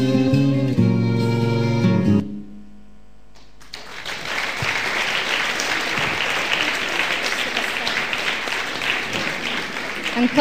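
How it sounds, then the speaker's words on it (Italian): Audience applause breaks out after a short musical ending and a brief hush, a dense, steady clapping from a sizable crowd at a public event in Scorrano, sustained and fairly loud to the end. "Ancora un applauso a Roberta"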